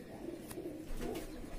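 A three-year-old female fork-tailed pigeon coos softly in a few low, rolling phrases. The calls are faint and close, with no voices over them.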